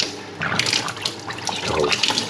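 Kitchen mixer tap running hot water into a sink right after being fitted, a steady close splashing hiss lasting throughout with no talk.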